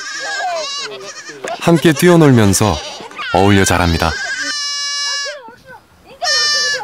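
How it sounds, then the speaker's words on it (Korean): Young goats bleat repeatedly on a Mongolian nomad farm, loud nasal wavering cries up close, some overlapping, interleaved with a narrator speaking. "아직 우리 밖을 벗어날 수 없는 새끼 염소들은 어린 손자들에게 친구가 되어줍니다."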